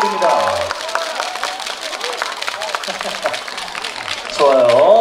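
A crowd claps steadily at a Haeundae village festival's resident-program contest for wellbeing sport dance, a broad patter running throughout, with voices over it and a loud announcer rising at the start and end.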